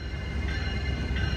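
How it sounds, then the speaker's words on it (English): Passenger train pulling into Great America Station, a steady close rumble of wheels and cars rolling past with a faint high whine, no voices. "his train, which is just now pulling into Great America Station"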